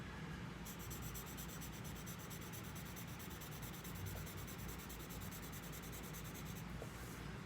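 Graphite pencils of differing lead hardness shading and blending on paper for a value scale, a steady close scratchy rubbing that continues without pause, with no voices.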